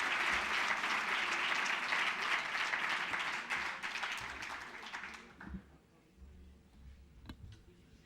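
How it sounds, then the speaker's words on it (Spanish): An audience claps at a centenary tribute event for Octavio Paz at the Instituto Cervantes. A sustained wash of applause is heard first, then it thins and fades out to a quiet room over the last few seconds. "y aquí te aplauden"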